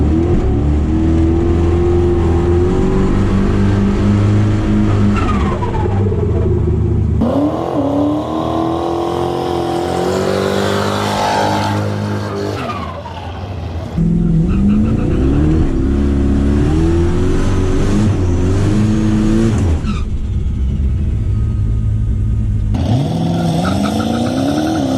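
A car with an LS engine and a 118mm turbo roars through a sustained full-throttle burnout, loud and close, the engine pitch climbing and falling with shifts between gears and a brief dip midway.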